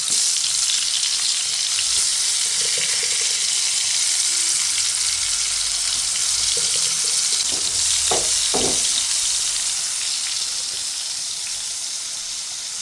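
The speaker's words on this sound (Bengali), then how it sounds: "তেল মনে হয় অলরেডি গরম হয়ে গেছে এখন আমি বেগুনের মধ্যে দিয়ে দিচ্ছি" Eggplant slices sizzle steadily in hot oil in a home kitchen pan, a dense, continuous crackling hiss with a few brief utensil clinks near the end as the frying gradually softens.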